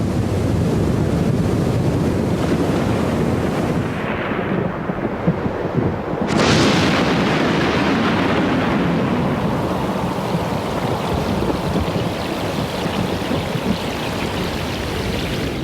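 Storm-tossed ocean waves crash and churn in a loud, continuous roar with gusting wind, one big surge breaking heavily midway before the turbulent wash carries on.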